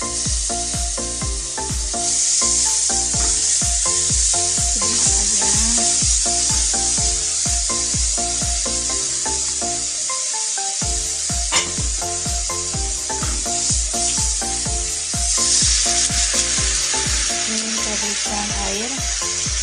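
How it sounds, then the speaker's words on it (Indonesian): Chili peppers sizzle in a frying pan while a utensil stirs them in quick, rhythmic scraping strokes. The steady hiss of frying runs underneath throughout, and no one speaks. "Kita akan menumis cabenya ya, agar tidak terlalu pedas."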